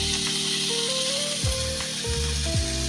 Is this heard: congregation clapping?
no